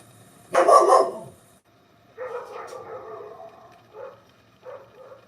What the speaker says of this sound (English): Yeah, you bark at me like that, you're gonna get the wrath.